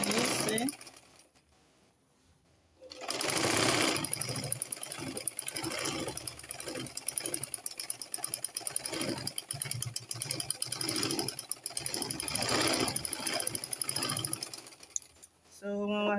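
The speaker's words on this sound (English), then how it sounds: "So we are stitching to close it up." A sewing machine runs continuously while stitching a deep neckline closed on skin illusion net fabric. After a quiet start, a steady, loud mechanical whir with rapid needle ticking holds for over ten seconds.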